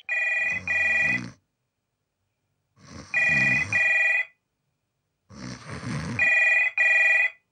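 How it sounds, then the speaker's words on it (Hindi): An old-style telephone rings in three bursts of double trills separated by pauses, loud and close, with low grunting noises underneath. "फोन बज रहा है, फोन।"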